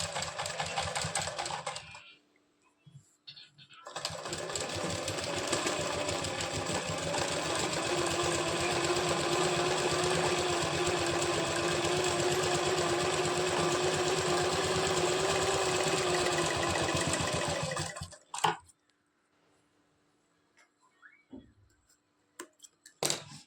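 A sewing machine runs a long, steady seam along the very edge of belt blouse panels, a fast continuous whir for about fourteen seconds between short quiet pauses and a few faint handling clicks.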